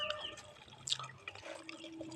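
Tamarind water being poured into a cooking pot of boiled vegetables, a short, faint splashing trickle with small drips and liquid sounds, heard close up without speech.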